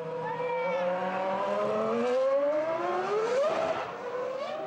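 A Sauber C22 Formula One car driven by test driver Neel Jani on a closed section of the King Faisal Highway in Manama, its loud high engine note climbing steadily through the revs before dropping sharply as it passes.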